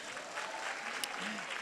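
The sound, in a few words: audience applause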